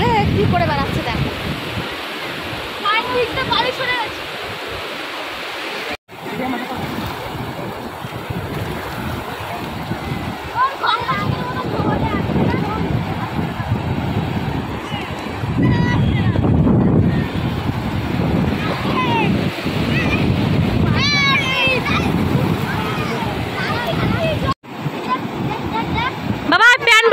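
Sea waves washing in at Digha beach, a broad continuous roar with wind buffeting the microphone, brief cut-outs, and people's voices faint over the surf.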